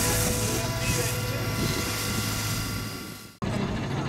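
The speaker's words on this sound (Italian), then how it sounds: "Questo che vedete inquadrato è l'elicottero della Starwork, l'altra società insieme all'Air Green che sta facendo il trattamento" Starwork helicopter flying low over woodland during a crop spraying treatment against Lymantria moths, a loud, steady rotor and turbine roar that fades slightly before cutting off near the end.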